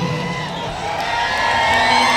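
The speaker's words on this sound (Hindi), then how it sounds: "सभी पर जोरदार ताली बजाइए" Live music event crowd cheering and whooping loudly and continuously, a dense roar of many voices with shouts rising toward the end, likely mixed with clapping.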